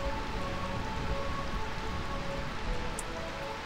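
Steady rain pouring down in the city of eternal rain in Final Fantasy IX, a dense, even hiss of drops falling on surfaces that continues without pause, moderately loud and enveloping.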